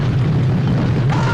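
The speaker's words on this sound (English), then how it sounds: "The communicators create an explosion that in all honesty looks pretty badass." A staged explosion from Star Trek communicators in a 1960s TV episode, a loud sustained low rumbling boom filling the whole short clip with a brief burst near the end.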